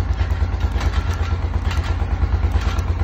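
A Honda Foreman ATV engine runs in gear after starting, a loud close pulsing thump with mechanical clatter, steady throughout with no talk.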